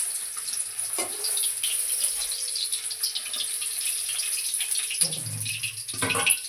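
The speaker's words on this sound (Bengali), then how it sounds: "তেলে গাজরগুলো ভেজে নেব।" Carrots frying in hot oil make a continuous high sizzle and hiss throughout, with a few clinks and scrapes of utensils near the end. No voices are heard.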